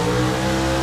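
A drag racing car launches hard from the starting line at a 2024 all-female final event, its engine roaring loud and close in one dense, sustained blast with no pause.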